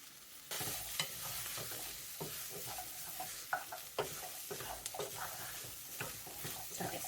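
Onions, celery and garlic cook in a pan for a chicken pot pie gravy, giving a steady frying hiss with repeated stirring scrapes and light clacks, close and fairly quiet.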